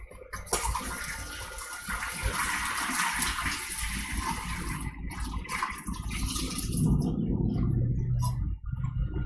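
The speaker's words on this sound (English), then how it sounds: "this just needs to be drained and put into a bowl" Water gushes and splashes continuously as cooked edamame is drained in a kitchen, a loud pouring rush that shifts to lower gurgling toward the end.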